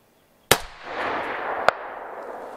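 A single sharp rifle shot fired left-handed from a hunting position at a target, a loud close crack followed by a lingering rumble, then a fainter distant report about a second later as the bullet strikes.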